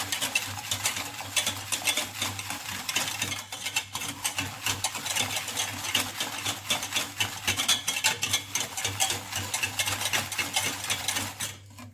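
Caramel and chocolate mixture stirred vigorously in a pan off the heat, a steady run of scraping, clinking strokes, close and continuous with no talk.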